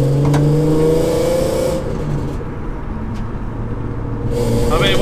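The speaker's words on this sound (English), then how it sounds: "So this is the road test to find the rattle." An R32 car is driven on a road test to track down a rattle, its engine droning and shifting pitch up close as it accelerates, with road noise beneath and a voice speaking over it.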